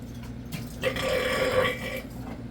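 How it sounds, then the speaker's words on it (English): One long, loud, croaking burp rolls out up close for about a second after someone chugs very old Moxie soda, with quiet room noise before and after. "Got a lot of burps now and my stomach's upset from all that sugar."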